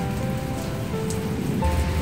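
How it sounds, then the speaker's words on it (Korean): Rain falls outdoors on farm fields in the countryside, a dense steady patter close by with a low rumbling wash underneath, no voices. "비가 시원하게 오는구나."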